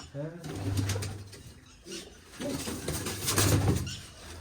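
Pigeons coo in low, throaty bursts close by, while someone talks over them and a few faint clatters sound in the background.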